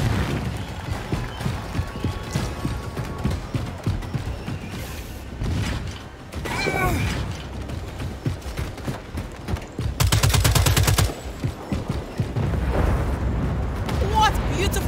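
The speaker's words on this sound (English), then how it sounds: "Put a grenade to it" Grenade blast in the shooter game Second Extinction, a sharp loud burst amid ongoing gunfire and combat noise, with people talking throughout.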